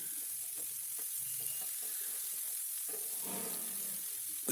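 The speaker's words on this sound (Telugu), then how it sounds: "మీడియం ఫ్లేమ్లో ఉల్లిపాయ వేయించుకోవాలి." Onions fry in oil in a pan over a medium flame with a quiet, steady sizzle and occasional soft stirring scrapes, heard close with no voices.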